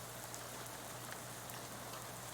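Steady rain falls in the video game Shadows Over Loathing, a constant even hiss of drops hitting surfaces with no talking.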